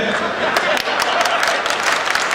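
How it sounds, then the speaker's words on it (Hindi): A crowd applauds at a Hindi poetry gathering (kavi sammelan), dense steady clapping filling the room for a couple of seconds with a voice faintly underneath. "ताली अभी भी आपकी कमजोर है"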